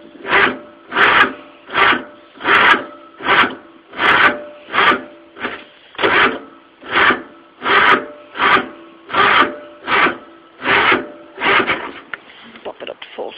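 A Yardman mower engine turns over on a cold start with choke set and about half throttle: a long run of steady, evenly spaced cranking pulses, close and loud, that break into an irregular sputter as it catches near the end.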